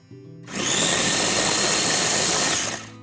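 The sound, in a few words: grinding chipotle chilies in adobo sauce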